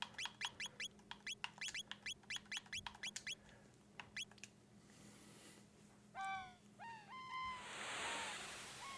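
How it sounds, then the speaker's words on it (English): Seagull cries from the Chrono Trigger video game: a quick run of sharp chirping calls early, then a few louder swooping gull-like calls near the end over a faint steady ambient hum. "And the sound of the seagulls."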